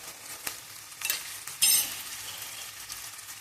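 Onions frying in a pan for chicken curry give a quiet, steady sizzle, with a few sharp stirring and utensil clicks near the start, heard alone without speech.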